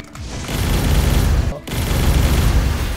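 Rapid burst of fire-bullet shots in the Blox Fruits game, a dense loud volley with a brief gap midway before another sustained barrage.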